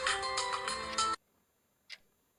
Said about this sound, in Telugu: ఎందుకు ఇన్నిసార్లు ఫోన్ చేస్తున్నారు?